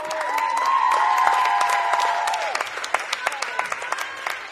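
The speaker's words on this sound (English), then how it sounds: "Big round of applause for the Marcy sisters, Claire and Lauren." A crowd at a high school volleyball match applauds warmly, with cheers over the clapping at first, then the applause thins into scattered individual claps.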